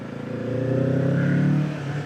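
A 2026 Kawasaki Z650 S motorcycle engine revs steadily, its low rumbling drone swelling and holding before easing slightly, close by with no talking.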